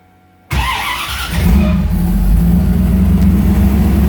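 A gullwing car engine cranks with a sudden loud burst after brief silence, then catches and settles into a steady, loud, close idle rumble.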